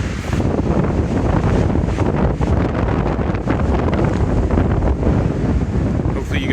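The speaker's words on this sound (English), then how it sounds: "You guys are enjoying the wind." Strong wind buffets the microphone on a desert hiking trail on the Hayduke Trail toward Moab, Utah, a loud, continuous roaring gust with rough fluctuations throughout.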